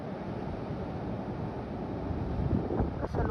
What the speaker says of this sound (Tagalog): Rinig na rinig po yung lakas ng alon